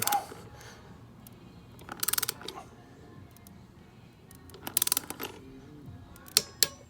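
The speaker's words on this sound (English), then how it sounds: "I'm gonna torque it down to 20 foot-pounds." A torque wrench tightens bead lock bolts on a UTV wheel to 20 foot-pounds, giving quiet clusters of quick ratcheting clicks followed by single sharp clicks, close by with no talking.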